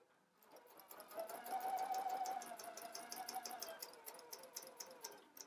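A domestic sewing machine stitching a dart in a dress skirt, running in a steady continuous whir that builds, holds, and eases slightly as it slows near the end, close and moderately loud with no talk.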